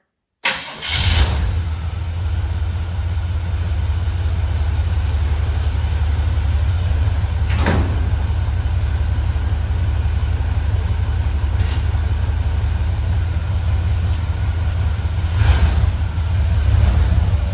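A 1955 Chevy engine idles with a steady low rumble after starting, loud and close, with a few sharp clunks as it is shifted into gear.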